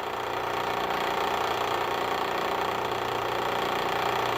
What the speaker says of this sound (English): Basically what I'll do here is let the motor run for a short period of time.